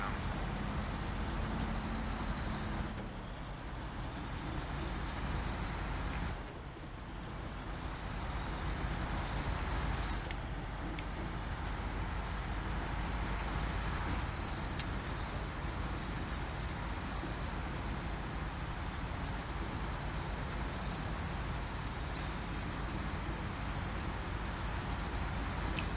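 A big truck in the off-road driving game SnowRunner rumbles along steadily, a continuous loud engine drone throughout with a brief dip partway, no voices.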